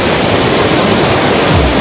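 A strong current of water comes down from the mountain, swollen after a landslide: a loud, dense, continuous roar of rushing water close to the listener, with no pauses and no talking.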